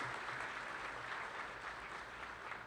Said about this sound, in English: please join me in a round of applause to thank our students and sponsors